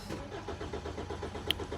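A BMW F30 engine cranks without starting, the starter churning in a fast, even rhythmic chug close by that never catches, with a single small click partway through.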